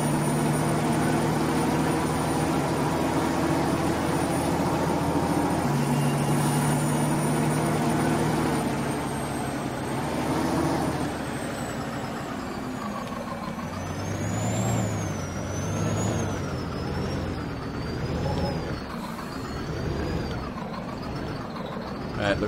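A truck engine drones steadily while driving in Farming Simulator 19, a loud continuous rumble that shifts pitch as it changes gear, with a hiss near the start.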